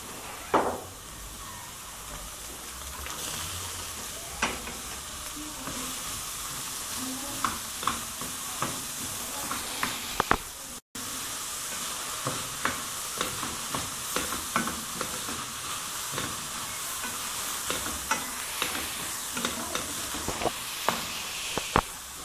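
Onions sizzle and hiss steadily in a hot pan with garlic, with frequent scraping clicks of a utensil stirring them; a continuous close frying noise with a brief dropout midway, no talking.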